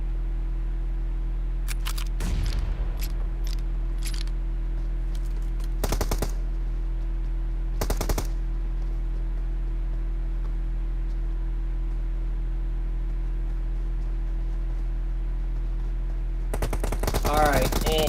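Shotgun fire in the PUBG Mobile battle game: sparse, sharp blasts come in short clusters over a steady low hum, with a denser burst of shots near the end.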